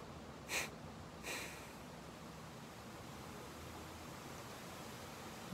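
Two short, sharp forced exhalations through the nose in rabbit-style pranayama breathing, close and distinct, followed by quiet room hiss.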